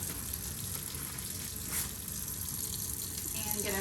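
Steady broadband rush of tap water running into a sink during handwashing, continuous and fairly close throughout.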